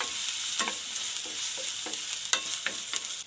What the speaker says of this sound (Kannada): ಆನಿಯನ್ ಚೆನ್ನಾಗಿ ಫ್ರೈ ಆಗಬೇಕು